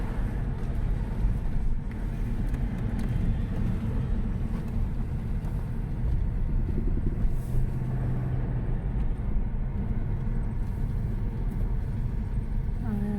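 Road traffic on a main road, heard as a continuous low rumble of passing vehicles and engine noise, steady and fairly loud without clear separate passes.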